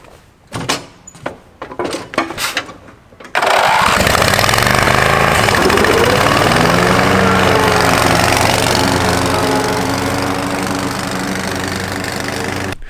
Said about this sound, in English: So we got the grass all mowed.